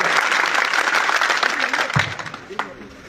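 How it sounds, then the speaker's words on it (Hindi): A crowd at an outdoor election rally in a town ward breaks into loud, dense clapping that tapers off over a few seconds, with a voice and a few stray claps at the end. "तो एक बार जोरदार ताली बजा के स्वागत करें।"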